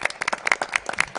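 Audience applause at a school board of education meeting, with a steady patter of many overlapping hand claps, fairly close and even in loudness, and no talking over it.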